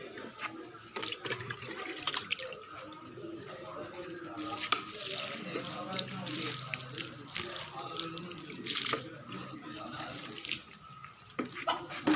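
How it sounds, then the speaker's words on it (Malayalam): Water is poured slowly onto soil in a plant pot, making an irregular trickling and splashing that runs through most of the passage, close and fairly loud. "ഇതിൽ മെല്ലെ മെല്ലെ വെള്ളം ഒഴിച്ച് കൊടുക്കുകയാണ്"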